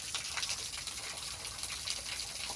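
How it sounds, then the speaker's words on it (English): Spring water seeping and trickling from a limestone overhang uphill from a creek, a faint continuous gushing splash with soft patters, heard alone at low level. "There's a couple of underground seeps"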